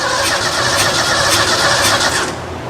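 An old Ford engine cranking with a faulty cylinder 2 valve, a loud, continuous churning drone with faint rhythmic whooshing pulses from the exhaust, steady throughout before easing slightly at the end.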